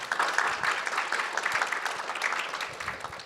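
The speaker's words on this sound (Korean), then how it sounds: "여러분들 힘찬 성원의 박수 한번 부탁드리겠습니다." Applause from a seated audience at a university presidents' forum on training physician-scientists, a steady dense patter of many hands clapping close by with no voices over it.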